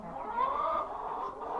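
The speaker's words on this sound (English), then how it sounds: "Some chickens running around in here." Chickens cluck and murmur softly in an indoor pen while pecking at alfalfa during a snowy winter day, a close, continuous low chatter with no talking.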